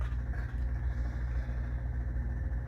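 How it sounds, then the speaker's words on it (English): Low, steady mechanical rumble of roadworks machinery digging up a road nearby, a constant droning engine with no voices. "that's the waterboard digging up the road outside my truck"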